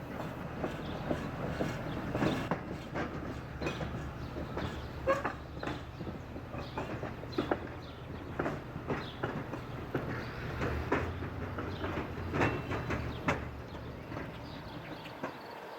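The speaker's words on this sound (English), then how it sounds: "a track inspector, high railing west down the number 1 main. He slows to roll over the diamond" A hi-rail track inspection truck rolls slowly west over a low-speed railroad diamond crossing at a station, its wheels producing scattered, irregular clicks and knocks over a low rumble, moderately distant and quiet.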